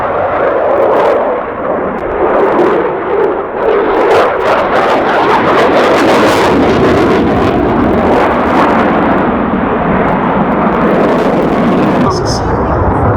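A Eurofighter Typhoon FGR.4 jet displaying at the Duxford Air Festival, a loud sustained roaring rumble that swells and churns throughout, heard from a crowd position with voices mixed in.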